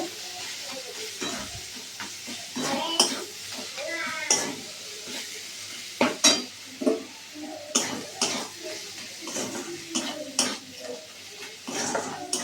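Fish curry is stirred in a pan, with spoon scrapes and clinks over a low sizzle; a voice speaks intermittently alongside the stirring.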